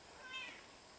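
A single short, faint cat meow at home, heard alone against quiet background hiss.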